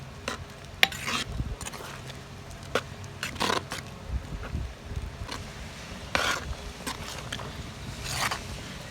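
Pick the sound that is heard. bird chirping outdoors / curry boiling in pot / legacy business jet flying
curry boiling in pot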